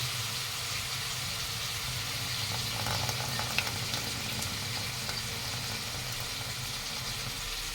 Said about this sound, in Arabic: وابتدي انزل بيها على معلقة السمنة. ونحمر